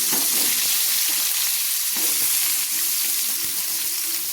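Carrots and potatoes hit hot oil in a frying pan, giving a loud, steady sizzle and hiss with a few stirring clatters.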